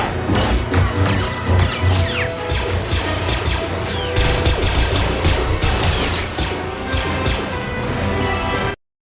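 Dense crashing bursts of video game combat, heavy impacts and rapid gunfire-like cracks piling up loudly for several seconds before cutting off abruptly.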